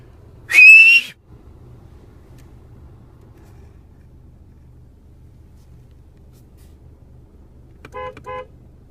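A single loud, rising whistle call, made by a person imitating a bigfoot call, rings out near the start, followed by long quiet low rumble and two faint distant tonal bursts near the end.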